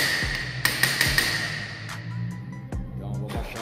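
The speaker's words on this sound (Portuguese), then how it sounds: "Pegamos um martelinho e batemos aqui, ó." A small hammer taps the rear bearing housing of a disassembled VW AP starter motor, giving a handful of sharp, close metallic knocks spaced unevenly over a low background hum.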